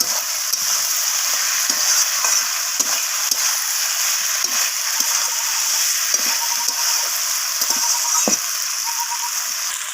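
Spices, a fish head and potato pieces sizzle steadily in hot oil in a pan for a cabbage curry. The frying is a constant close hiss, broken now and then by faint stirring scrapes. No one speaks.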